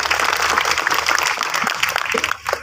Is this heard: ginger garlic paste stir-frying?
no